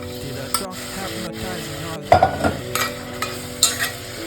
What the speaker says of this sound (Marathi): आता शिजवलेलं मटण टाकून घेऊ.